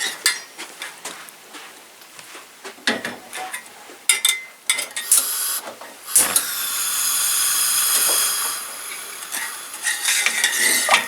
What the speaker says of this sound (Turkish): Orta ateşte sütümüz kaynayıncaya kadar karıştıracağız.